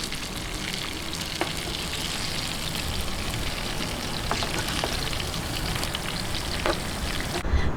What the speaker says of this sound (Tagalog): Ipakikita ko po sa inyo kung paano lang yung pagka-half cook ng ating bangus.